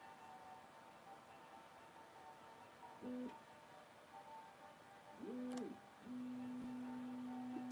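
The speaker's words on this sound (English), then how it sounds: "if the noises you hear is the 3D printer" A 3D printer runs quietly, its motors giving short tonal whines and hums that rise and settle between moves, with a longer sustained tone near the end and no one speaking.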